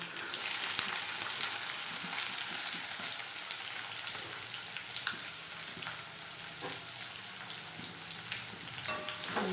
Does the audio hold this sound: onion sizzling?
yes